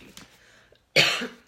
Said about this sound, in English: I've had a dry throat, so sorry if I start coughing.